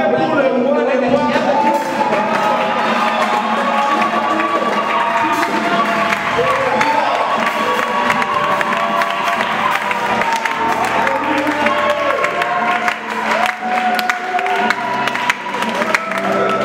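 A church congregation claps and cheers continuously, a dense, loud wall of applause and voices rising in praise for a preacher, sustained throughout without a break.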